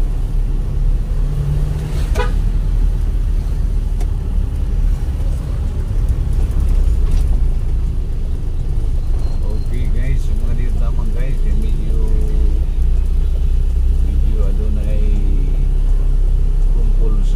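Street traffic in Iligan City: cars and other vehicles rumble steadily, with a brief horn toot early on, while people talk over the noise.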